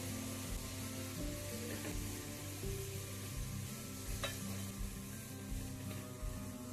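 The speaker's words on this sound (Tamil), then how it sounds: "இப்போ அந்த ஆனியன் கலர் வர்றதுக்கு கொஞ்சமாக சுகரு, ஆயில் பத்தலை, அதனால இன்னும் கொஞ்சம் கூட ஊற்றிக்கிட்டேன்." Chopped onions with a little sugar fry in hot oil in a pan, giving a steady, close sizzle with a low hum underneath throughout.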